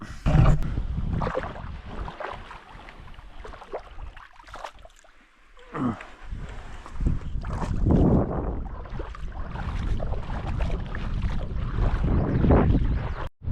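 Strong wind gusts buffet the microphone outdoors by the water, a loud rough rumble that swells and fades over several seconds, with no voices.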